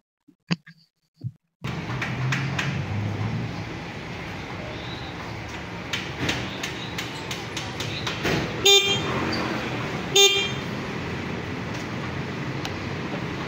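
A few brief clicks as switches are checked, then a steady engine hum with short, sharp motorcycle horn toots, two of them clearly standing out near the end.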